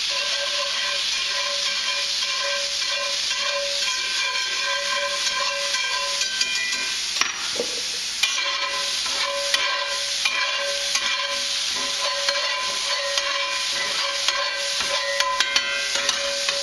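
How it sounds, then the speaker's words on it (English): Wine poured into a hot pan of rendered bacon fat gives a steady, loud sizzle and hiss, bright and continuous throughout with small crackles and pops, with no talking over it. "we're going to go ahead and deglaze the pan with just a little bit of white wine"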